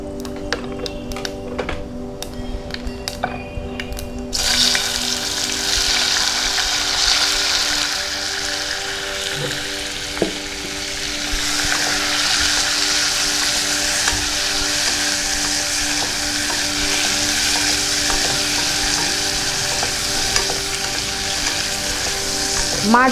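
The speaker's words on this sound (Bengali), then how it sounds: "ফোড়নের ভালো গন্ধ বেরিয়েছে, এবার মাছগুলো ছেড়ে দিচ্ছি" Shrimp frying in hot oil with whole fennel seeds gives a loud, continuous sizzle close by, opening with a few clinks and stirring scrapes before a steady hiss that swells as the shrimp go in.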